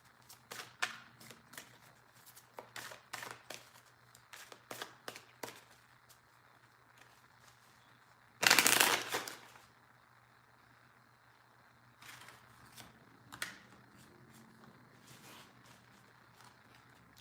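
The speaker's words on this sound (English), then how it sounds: "I'm pulling you a Doreen Virtue card for all the signs too" Oracle cards from a Doreen Virtue deck being shuffled and pulled, a series of crisp riffling flicks in short bursts, with one loud close snap of cards midway and softer flicks afterward, no voices.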